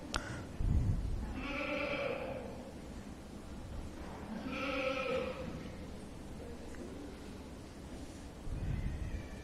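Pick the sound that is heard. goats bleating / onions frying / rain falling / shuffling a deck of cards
goats bleating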